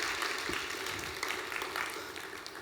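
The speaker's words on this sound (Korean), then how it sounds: "우리 한 번 더 격려의 박수, 응원의 박수 한번 보내드리겠습니다." Church congregation at a youth worship service giving a short burst of steady, moderately faint applause with no talking over it.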